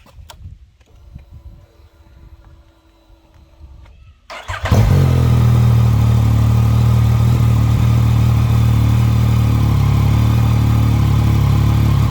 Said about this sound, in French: Allez, on démarre la moto.